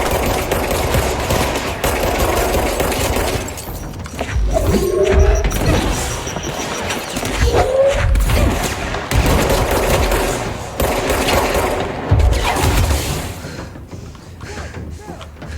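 Rapid gunfire in the action game Alan Wake's American Nightmare, with bursts of shots, heavy thumps and crashes running steadily through a loud combat scene, some talk mixed in.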